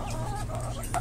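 Silkie chick clucking close by in a backyard pen, a steady run of soft, continuous peeping clucks with no talk over it.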